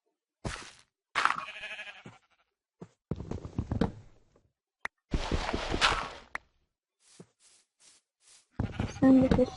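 Sheep in the Minecraft video game bleat in short repeated bursts, fairly close, with gaps of silence and faint footstep-like clicks between the calls.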